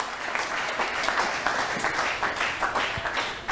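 A church congregation claps together in dense, steady applause with rhythmic pulses of hand claps, close and continuous for a few seconds.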